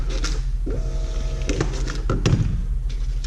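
A card machine printing a customer receipt gives a short mechanical whirring buzz with a few sharp clicks and taps, heard up close over steady background hum.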